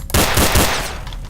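Gunfire in Garry's Mod DarkRP aimed at concrete barrier props: one loud, close burst of rapid automatic shots lasting about a second and fading to a short tail, with no talk.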